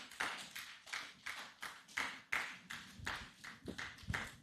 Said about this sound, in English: Please, let's applaud.